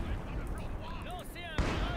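MG42 machine gun fire in the Company of Heroes 2 video game, with rattling gunfire and battlefield noise, a sharp crack near the end, and voice-like sounds mixed in.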